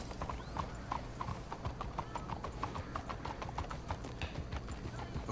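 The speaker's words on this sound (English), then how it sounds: "Let's hitch the horses up ahead." Horses trotting in the Red Dead Redemption 2 video game, a rhythmic clip-clop of hooves at moderate distance with an occasional whinny, steady throughout under a low rumble of wagon or game ambience.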